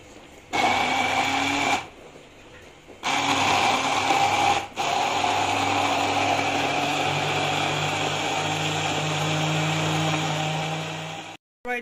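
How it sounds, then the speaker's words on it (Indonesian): A professional grinder whirring sambal with peanuts, loud steady motor bursts that start, stop briefly and run again for several seconds before cutting off, no talking. "Hari ini saya gunakan grinder professional ya guys. Kita haluskan sambalnya sampai halus."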